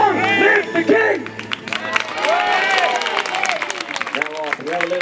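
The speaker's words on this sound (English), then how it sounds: "Give a big round of applause" A crowd at Warwick Castle claps and cheers for a newly proclaimed King Arthur, a steady burst of applause mixed with whoops and overlapping voices close by.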